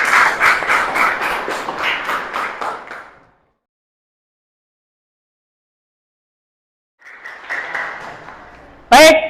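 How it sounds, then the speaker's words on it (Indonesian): Students in a classroom clap together for about three seconds, then fall silent. A shorter burst of clapping follows, ending in a sharp close knock. "Tepuk tangan dulu untuk kita semuanya."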